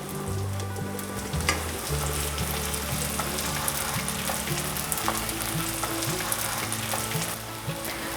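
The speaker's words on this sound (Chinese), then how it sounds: "先让它慢慢煎定型，待会再来翻动" Pieces of food pan-frying slowly over medium-low heat so they set their shape, a dense continuous sizzle and crackle holding steady throughout, close and fairly loud, with no voices.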